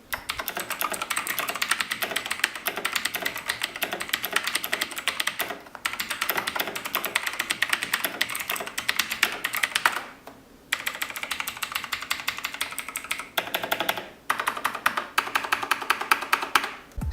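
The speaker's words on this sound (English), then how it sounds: "these are the Razer Green Switches, which are tactile and clicky" Continuous clicky typing on a Razer BlackWidow Chroma V2 keyboard with tactile Razer Green switches, rapid dense keystrokes close up, broken by a few brief pauses.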